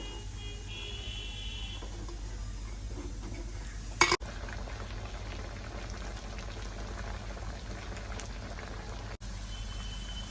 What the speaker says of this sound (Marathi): अशा प्रकारे सगळे वडे तळून घेऊया